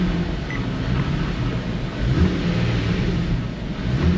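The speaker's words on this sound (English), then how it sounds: "just as I hit the gas" An Infiniti G37 with a misfire engine note revs as the throttle is pressed, a steady mid-pitched drone that swells slightly partway through, heard close up with no talking.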